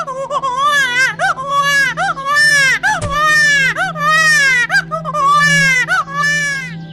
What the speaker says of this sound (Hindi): ये क्या, ऐसी घने जंगल में एक बच्चा रो रही है?